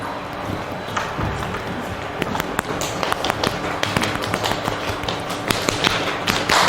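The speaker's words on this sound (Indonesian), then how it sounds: "Tepuk Pancasila." Classroom of students at a Pekanbaru junior high performing the Pancasila clapping rhythm, a busy run of sharp claps and taps over a steady room hubbub, fairly close and moderately loud.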